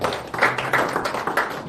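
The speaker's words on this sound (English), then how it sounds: "Please, another round of applause." Clapping from a crowd at a joint press conference of Nigerian political parties, a dense, steady patter of hands filling the whole short stretch at moderate loudness.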